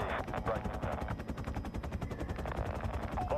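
Rapid automatic fire from a WSP Swarm SMG with a 100-round drum in Modern Warfare 3, a steady unbroken stream of close, loud shots running the whole time.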